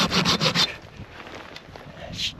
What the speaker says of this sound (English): Gotta get some firewood here. Nice dead root.